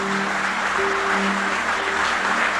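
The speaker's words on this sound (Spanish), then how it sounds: "Quiero que le dé un fuerte aplauso al Señor, por favor." Congregation clapping loudly during a church sermon service, a dense, continuous wash of applause with a faint sustained tone underneath.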